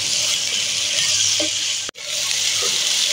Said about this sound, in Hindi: अब मैं थोड़ा सा चिकन को करती हूँ फ्राई, इसका कच्चापन अच्छे से दूर करती हूँ।